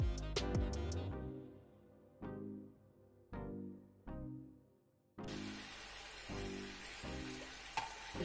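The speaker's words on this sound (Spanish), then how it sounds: "Removemos bien y dejamos que la salsa reduzca y espese un poco" Curry and coconut milk sauce stirred in a pan, with a utensil scraping and knocking against the pan in several separate strokes, then a louder burst of bubbling and stirring near the end.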